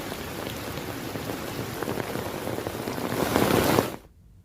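Heavy rain pours down in a steady, dense hiss, growing slightly louder near the end before cutting off abruptly, with no voices.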